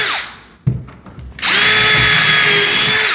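A power drill pre-drills the bottom panel of a plywood RTA kitchen cabinet: a short whirring start, a few brief bursts, then a loud sustained high-pitched whine as the bit bores steadily into the wood.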